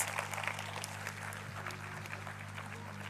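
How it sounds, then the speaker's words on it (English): Audience applause for performers at a stage event, a steady wash of clapping heard at moderate distance over a low constant hum from the hall's sound system. "Can we have a round of applause again for the performers?"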